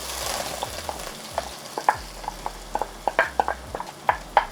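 Diced trinity vegetables sizzle in olive oil in an induction pan at medium-high heat, a soft steady fry broken by a series of sharp clicks and scrapes from stirring, with no voices.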